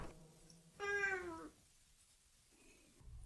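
A house cat gives a single clear meow of about half a second, fairly close in a quiet room, with faint rustling around it.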